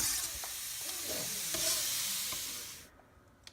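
Onions and garlic frying in a pan for tomato soup, a steady crackling sizzle with scraping stir strokes. It drops away sharply near the end, leaving a quieter tail with a faint tap.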